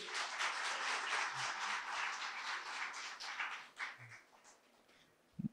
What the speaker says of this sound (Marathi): एकदा जोरदार टाळ्या राहुलसाठी.